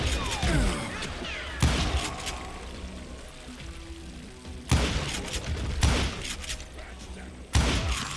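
Gunfire in the western shooter game Call of Juarez: Gunslinger, three loud sharp shots spaced a few seconds apart, each cracking out and ringing off into the game's background ambience.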